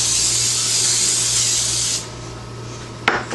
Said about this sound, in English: you need to spray your baking sheets with Pam or something like it.